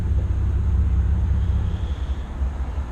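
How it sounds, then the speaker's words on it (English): Low, steady rumble of a train passing somewhere in the background, continuous and fairly loud for about three seconds, with no voices over it. "sorry about the train in the background"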